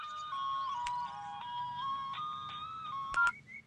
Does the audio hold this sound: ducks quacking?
no